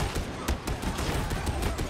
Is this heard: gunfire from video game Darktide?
yes